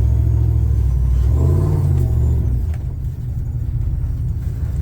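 A Prerunner truck engine on its first test drive, a loud close rumbling drone that swells as it revs, then settles into a steady lower growl.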